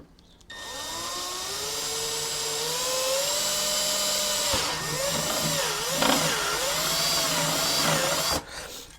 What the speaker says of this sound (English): I'm going to go ahead and start drilling. I'm going to use a step bit for this.